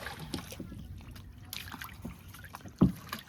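A small fishing boat pulls up at a jetty at Trombay Koliwada, Mumbai: water laps and sloshes against the hull, and one sharper splash or knock stands out, with faint voices nearby.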